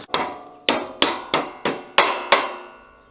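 A hammer taps a metal building's entry door frame seven times in a steady rhythm, each strike a close, bright metallic clank with a short ringing decay and no talking.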